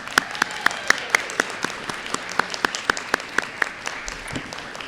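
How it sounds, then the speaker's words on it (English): Students' families and classmates clap for them at an eighth grade promotion ceremony, a fairly steady run of crisp, separate claps that sounds like a modest group rather than a dense ovation. "And can we give them a round of applause?"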